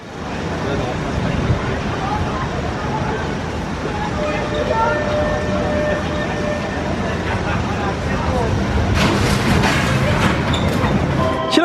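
Steeplechase roller coaster at Blackpool Pleasure Beach on a sunny day, heard as a steady loud rumble of running cars on track with rattling and clatter, building toward the end, with people talking in the background.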